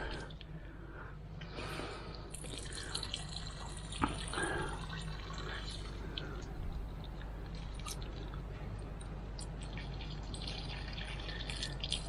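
Water from a siphoned pipe pours and trickles onto plants in a garden bed, a soft continuous splashing with a few drips, quiet and close.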